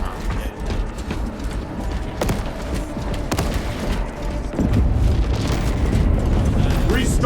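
Orbital barrage explosions in Warhammer 40,000: Space Marine 2 land as repeated booming impacts and sharp cracks over dense battle noise, the rumble growing heavier and more continuous toward the end.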